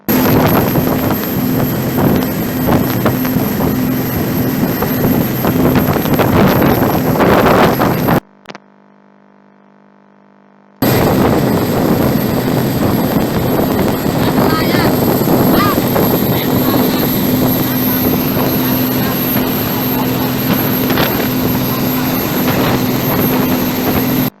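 A CVV ship runs at speed on a sea trial near 30 knots, its loud, steady roar mixed with heavy wind buffeting on the microphone, cut by a silent gap of a few seconds partway through.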